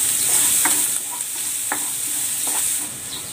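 Garlic sautéing in a hot pan for a simple corn soup (suam na mais), with a loud steady sizzle and a few quick spatula scrapes up close.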